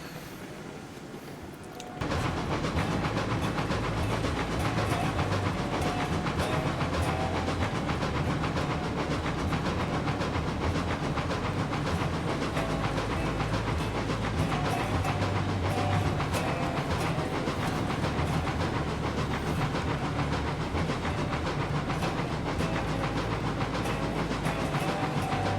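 The Eureka steam locomotive in the video game RailRoads Online, starting up after a brief quiet stretch into a steady, loud chuffing rumble with hiss and rhythmic rail clatter that runs unbroken to the end.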